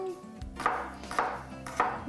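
A large garlic clove chopped with a knife on a board, three sharp close knife strikes about half a second apart, moderately loud with no talking.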